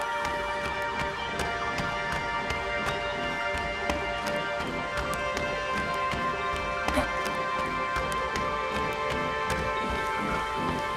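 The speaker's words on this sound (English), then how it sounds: "an animation is triggered which enables a low-pass filter on the rain sound effect" Steady rain sound effect in a video game, muffled by a low-pass filter, continuous dense patter with scattered sharper drops throughout.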